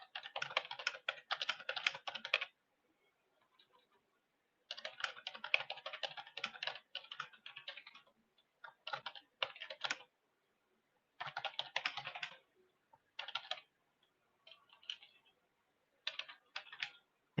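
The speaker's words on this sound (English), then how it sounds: "Sounds like you're typing." Typing on a computer keyboard, heard in bursts of rapid clicking separated by short pauses, fairly quiet and close, with no talking.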